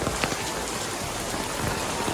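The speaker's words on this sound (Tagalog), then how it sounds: "the rain! The rain is raining right now." Heavy rain pouring down on an evening outdoor volleyball court, a dense, steady hiss of drops striking surfaces, loud and close throughout with no other sounds standing out.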